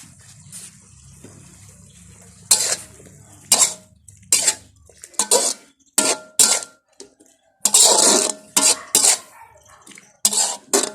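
Sliced chillies go into a pan of stir-fried pork with banana peppers, followed by loud, irregular bursts of metal spatula clatter and scraping against the pan, with brief quiet gaps between them.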